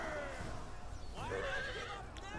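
Horses whinny in a Lord of the Rings Total War Rise of Mordor battle with Rohan horse archers, a loud rising neigh cutting through continuous battle din with faint hoofbeats underneath.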